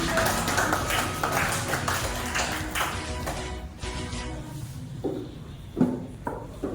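Classroom applause from students, a burst of scattered clapping that thins out after a few seconds, with faint background voices.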